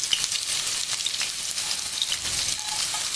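Garlic sautés in a pan for a quick Maharashtrian dill leaf vegetable dish, giving a steady, close crackling sizzle with scattered pops and no talking.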